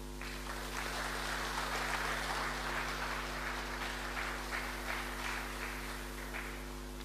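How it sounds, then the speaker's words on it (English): Audience applause after a speech at an award and retirement ceremony, steady sustained clapping from a crowd heard at a distance over a constant low electrical hum. "it's good to applaud that speech"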